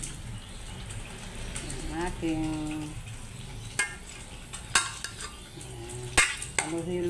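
Tofu and pork with a splash of vinegar stirred in a pan, with a soft sizzle, scraping and sharp utensil clinks against the pan while a person talks over it.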